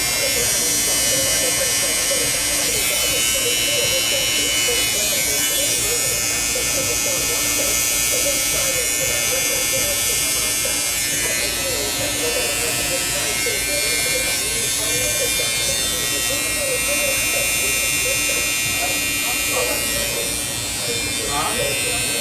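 An electric hair clipper with a loud, freshly oiled blade buzzes steadily and continuously, close and fairly loud, with people talking over it throughout.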